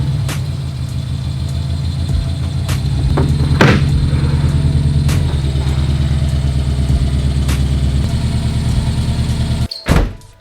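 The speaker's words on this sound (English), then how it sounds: "That belt is so freaking squeaky. It's the AC belt." An idling Subaru engine with a loose, worn AC belt, a steady close rumble marked by repeated sharp squeaks and ticks, ending with a brief clunk.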